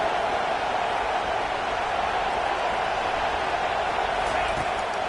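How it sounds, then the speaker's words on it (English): A dense, steady roar of a large football stadium crowd during a third-down defensive stand against Michigan, loud and continuous, likely with commentary voices mixed in. "Decibels rising as the crowd gets behind this defense on third down."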